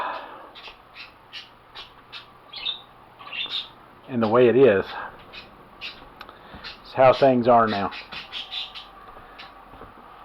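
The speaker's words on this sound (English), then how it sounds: "Wow, you birds are sure noisy." Birds call repeatedly nearby, rapid chirps and harsh caws in bursts, while a person talks quietly underneath.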